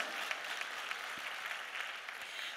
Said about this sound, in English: I think we deserve a big round of applause for that one